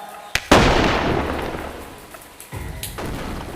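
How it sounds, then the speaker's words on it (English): Flare gun fired in the video game Animal Company: a sharp pop followed by a loud whooshing, crackling burst that slowly fades, with a second smaller burst near the end. "let me get my flare out"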